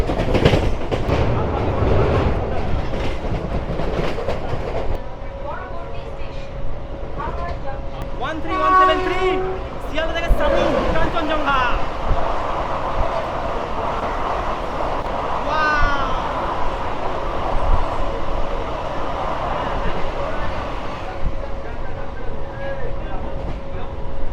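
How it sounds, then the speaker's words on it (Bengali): An express train rushes along at about 100 km/h with a steady loud rumble and rattling wheels, a brief high squeal and tonal hum cutting through midway. "ট্রেন ছাড়ার সঙ্গে সঙ্গে কিন্তু তার গতি নিয়েছে প্রায় প্রায় একশো"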